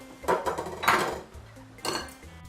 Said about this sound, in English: I'm going to be chopping the tomato.